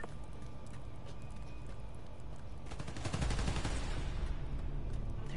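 Rapid gunfire in a Spider-Man video game, a dense stream of fast repeating shots rising over steady background noise partway through and continuing to the end.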